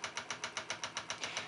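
A model engine runs steadily after starting, a fast regular pulsing beat at close range, loud and alone with no talk.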